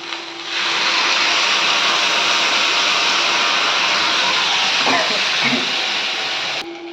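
Cumin water hits a hot pan of taro and prawn curry, bursting into a loud, steady steam-like hiss that holds for several seconds before cutting off abruptly.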